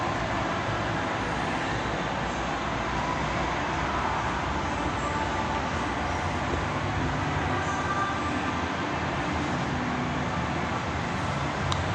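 A SkyTrain passes by as a steady, broad rush of rail noise that holds at even loudness for the whole stretch, with no talking over it.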